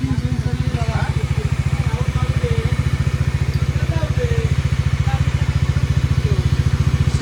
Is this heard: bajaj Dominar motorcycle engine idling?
yes